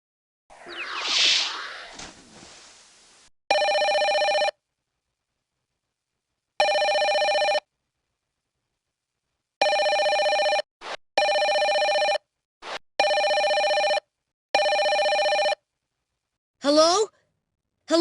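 Telephone in the My First Amazing World Explorer 2.0 computer game rings in a series of bright electronic bursts, each about a second long and separated by silences, preceded by a breathy sigh-like whoosh and ending with a short swooping sound.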